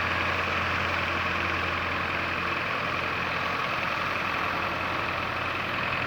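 A Belarus 510 tractor's 4-cylinder, 57 hp diesel engine idles steadily and close by, a constant low rumble with no voices over it.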